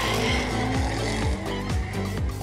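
Drift competition car held at a big angle through a corner, its tires shrieking and smoking in a long continuous squeal over a revving, bouncing engine note that climbs and drops repeatedly, loud and close.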